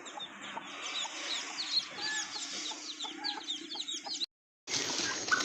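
Village hens cluck and chatter close by in a busy, overlapping stream of short calls. The sound cuts out briefly near the end, then the clucking returns.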